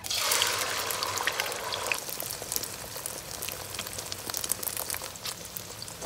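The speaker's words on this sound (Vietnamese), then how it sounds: "Cho dầu vào chiên trứng nha các bạn." Eggs fry in hot oil with a steady, close sizzle and crackle that starts loudest as they go in, then settles into continuous bubbling spatter.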